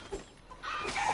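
Chickens cluck in a short burst within the video game Assassin's Creed Odyssey, two quick clucks heard alone and close at moderate loudness.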